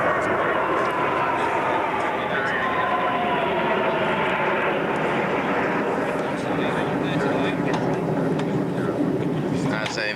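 Aerobatic team jets fly in a long formation at the 1992 Boscombe Down airshow, a continuous broad engine roar that stays loud and steady, heard under constant live commentary.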